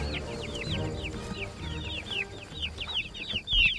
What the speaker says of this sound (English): about 15 chickens